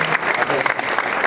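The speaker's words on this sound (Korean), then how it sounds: "한번 뜨겁게 하는 박수 주시기 바랍니다" A church congregation claps warmly in a brief, dense burst of applause filling the room, with no one speaking over it.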